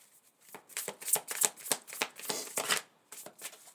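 A deck of tarot cards is shuffled for a love reading, giving close, crisp riffling and flapping in a quick, uneven run of bursts with a brief pause near the end and no talking.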